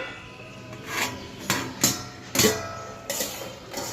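A metal lid comes off a cooking pot of bottle gourd leaf and potato curry. It makes a quick series of close, light metallic clinks and taps, with no speech.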